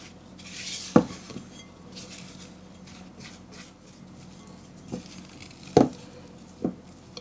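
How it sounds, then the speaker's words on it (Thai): Sifted milk powder, almond, cornstarch and all-purpose flour being mixed into butter cookie dough in a bowl, with a few sharp utensil knocks against the bowl over a soft, steady scraping. "เสร็จแล้วก็ผสมให้เข้ากันค่ะ"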